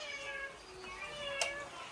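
A cat meows nearby, one drawn-out, tonal cry with a brief sharper accent near the end, standing out over faint background noise.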